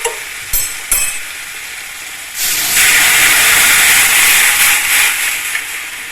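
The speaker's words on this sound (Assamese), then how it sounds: "এতিয়া ইয়াত দি দিম মই দাইলখিনি" Boiled dal poured into a hot pan with turmeric, a sudden loud hissing sizzle and steam burst after a few faint clinks, holding strong and steady to the end.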